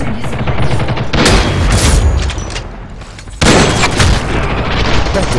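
Video game gunfire erupts in loud, rapid bursts with booming blasts, dense and continuous over a few seconds, with a sharp renewed volley partway through.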